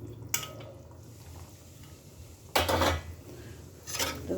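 Potatoes go into a pot of simmering fish curry, heard as a few splashy clatters against metal spaced across an otherwise quiet stretch with faint background hiss.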